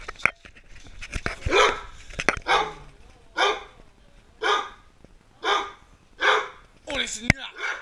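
A dog barks close by in a run of about eight loud, evenly spaced barks, with a person talking over and between them.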